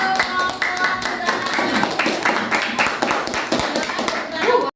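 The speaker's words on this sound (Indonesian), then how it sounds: "Tepuk tangan untuk" Audience clapping in a classroom after a group presentation, a steady burst of many hands at close range lasting several seconds before cutting off abruptly.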